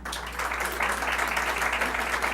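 Audience applause for teachers at a school board meeting, a dense, steady wash of clapping heard alone for a couple of seconds.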